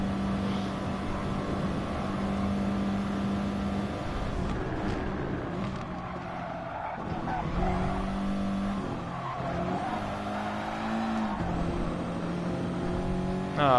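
A race car engine in the Gran Turismo Sport video game, during an online daily race, roars steadily throughout with pitch climbing and dropping through gear changes, loud and continuous.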